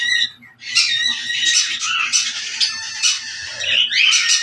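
Pet birds in a home aviary squawk and chatter continuously, a dense, shrill, overlapping flock of calls up close with a low hum beneath and no talk.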